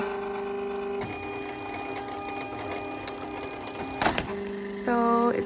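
A cutting machine slices shipping labels in a home business workspace, running as a steady mechanical whir. A sharp clack sounds near the end, followed by a rising series of stepped motor tones.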